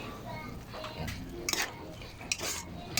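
A spoon scrapes and clinks against a pot while stirring pinapaitan that fries in its own oil, with soft sizzling underneath and a few sharper metallic knocks, fairly quiet and close.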